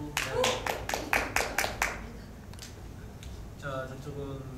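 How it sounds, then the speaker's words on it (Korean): A short burst of scattered clapping from a small audience at a podcast recording, quick and moderately close, dies away into talk. "박수."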